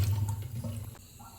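Water poured into a bowl of rice and lentils set to soak for Gujarati khichdi, a steady splashing stream that runs close and fairly loud, then eases off near the end with no talk over it.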